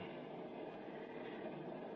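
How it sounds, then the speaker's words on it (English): A steady, muffled rumble of a train moving along the rails, constant and fairly faint, with no voices. "I wish this train would move a little faster."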